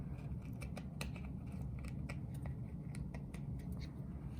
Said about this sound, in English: I'm gonna go in with my scissors, and I'm going to snip off the excess moth